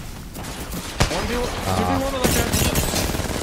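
Gunfire in the video game Apex Legends: loud, close shots with a sharp crack near the start, then a burst of rapid shots. Players talk excitedly over the firing.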